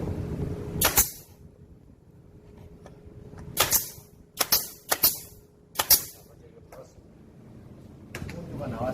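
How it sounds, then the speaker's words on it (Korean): Wood screws going into a rubberwood super-single bed headboard, heard as a few short sharp bursts of a driver spaced over several seconds against a quiet room hum. "피스못을 박아줘야죠"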